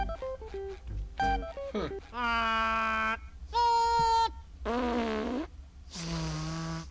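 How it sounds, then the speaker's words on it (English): Cartoon-style burp from SpongeBob in the Revenge of the Flying Dutchman game, a string of loud, drawn-out tonal belches with pitch wobbles, separated by short gaps and mixed with brief musical notes. "That was just a burp"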